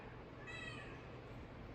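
A single short cat meow sounds faintly in the middle of a quiet, noisy background.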